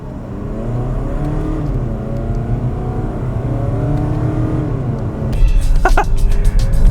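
A Volvo XC40 compact SUV with a 2-liter diesel engine accelerating hard, a steady rising engine drone heard from inside the cabin that grows louder and rougher near the end, with no speech.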